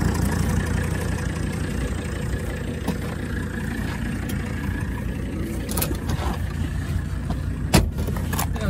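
A 1985 Mercedes 300TD diesel car driving, a steady broadband engine and road rumble running continuously throughout, with a brief sharp knock near the end.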